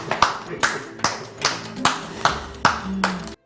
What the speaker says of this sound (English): she was applauded for the finished work